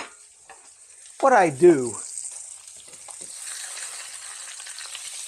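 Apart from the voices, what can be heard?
bacon frying in a frying pan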